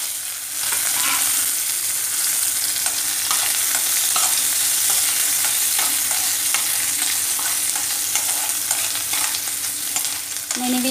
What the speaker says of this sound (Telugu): కడాయిలో కొంచెం ఆయిల్ వేసేసుకొని బొమ్మిడి చేపలు ఏం చేసుకుందాము ఇప్పుడు ఆయిల్లో బొమ్మిడి చేపలన్నీ ఏం చేసుకుందాం